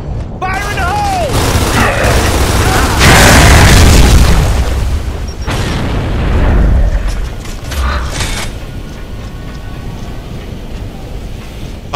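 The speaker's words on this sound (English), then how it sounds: "Fire in the hole!" Grenade blast in the video game Gears of War 3, a loud booming explosion rolling in around three seconds and decaying over several seconds amid game noise and voices.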